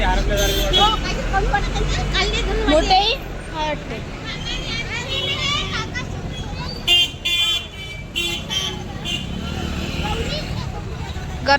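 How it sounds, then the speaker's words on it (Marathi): Crowd at the Swami temple in Akkalkot, a dense hubbub of voices mixed with nearby traffic and car horns, with people talking close by throughout. "पाहणं किती आहे इथे"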